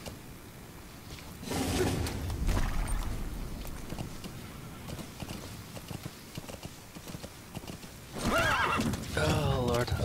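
D-Horse, the player's horse in the Metal Gear Solid V video game, gives two loud whinnies, one early and one near the end, over a steady thud of hoofbeats, with a voice talking in between.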